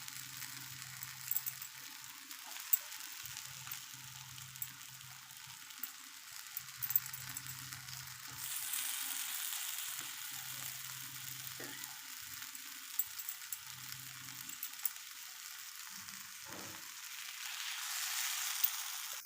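Brinjal slices fry in hot oil in a pan, giving a faint, even sizzle broken by soft bursts of spattering and occasional light clinks of a utensil.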